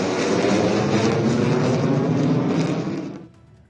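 Indian Air Force fighter jets landing on an expressway air strip on the Ganga Expressway in Uttar Pradesh, heard as a loud, steady roar of jet engines that holds for about three seconds, then drops away sharply to a quieter rumble.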